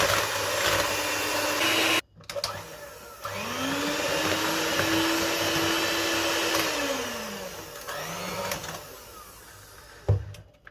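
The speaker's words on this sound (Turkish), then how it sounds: "Yaklaşık bir 5 dakika çırpıyoruz şeker eriyesine kadar." An electric mixer whisks eggs and sugar for a spinach sponge cake, a steady loud motor whir with pitch shifts as the beaters move, briefly cut off then restarted and running continuously.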